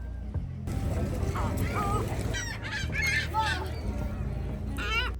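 Birds honk at Niagara Falls near Luna Island, with repeated goose-like calls over a constant roar of rushing water and crowd noise, and people talk in the background.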